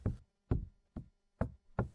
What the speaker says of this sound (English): the Webbers heard a strange sound coming from their cellar. Just a tap.